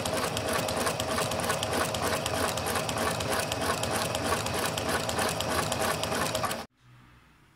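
A household sewing machine fitted with a cutting presser foot runs steadily through fabric, its fast, even mechanical chatter loud and close for several seconds before stopping abruptly.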